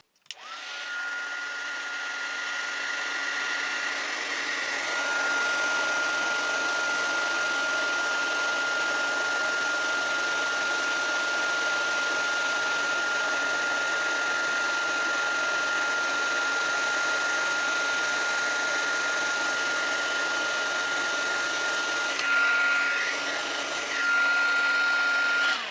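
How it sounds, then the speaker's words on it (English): A handheld heat tool blows steadily and continuously to melt embossing powder on colored cardstock, a loud, even whooshing drone with a thin steady whine running through it, briefly shifting near the end. "I'm going to use my heat tool to melt the embossing powder"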